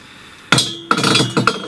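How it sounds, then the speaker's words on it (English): A metal washer set onto the threaded rod of a home-built bow press gives three sharp metallic clinks with ringing tails, each close and distinct, with no talk. "I take a washer. I'll put a washer on there."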